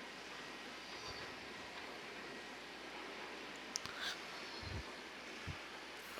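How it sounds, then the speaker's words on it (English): A quiet electric train glides past in the Ghost Recon Breakpoint game, a soft, steady rushing wash with a few faint clanks and a brief whine, no loud engine. "That train is so weird sounding. It's so quiet. Because it's electric train,"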